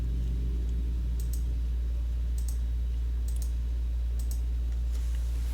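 Computer keyboard typing heard as a few sparse, crisp key clicks spaced about a second apart, sitting over a steady low background hum, with no talking.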